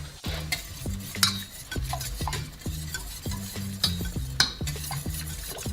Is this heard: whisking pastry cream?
yes